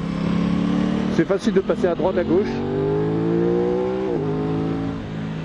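An Aprilia RS660 sport motorcycle revs while being ridden, its engine note rising and falling in quick bursts, then settling into a sustained climbing drone; a rider talks over it in French.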